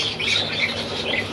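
An old gull calling near at hand, a run of harsh repeated squawks at close range with no talk over them.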